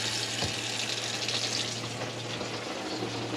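Tap water runs steadily into a sink aboard a boat during a DIY shower sump install, a constant close splashing gush with a low steady hum beneath it.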